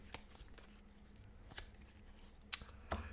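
A deck of Witchcraft! board game cards is shuffled close by, with soft riffling and sharp snaps of cards in a quiet room.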